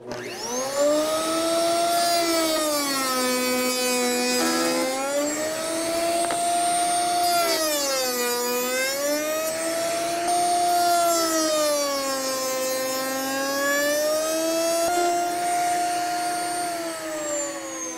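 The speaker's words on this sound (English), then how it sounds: "we're going to make our cope cuts, right like this" A router on a router table makes cope cuts along the edge of a solid-wood board for a furniture door front, giving a loud, continuous high motor whine that dips and rises in pitch as the cutter bites, with no talk.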